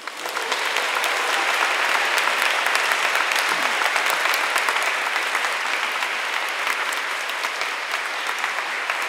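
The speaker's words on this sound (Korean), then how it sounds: "여러분 큰 박수 부탁드리겠습니다" A large audience at a lecture event applauds steadily to welcome an archbishop, a loud, continuous wash of clapping that swells in and holds for several seconds with no talking.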